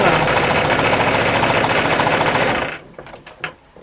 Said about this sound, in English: just simply go back where I stopped and just continue to sew